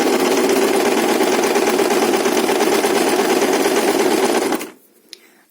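A sewing machine runs continuously, stitching a straight seam on a fabric night cap, a steady loud whirring for several seconds before the motor stops and everything falls quiet.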